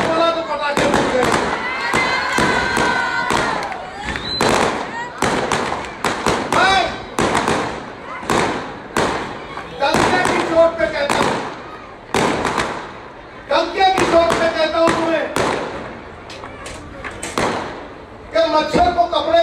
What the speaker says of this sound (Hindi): जब मैंने सच बोला तो पटाखे फूट गए।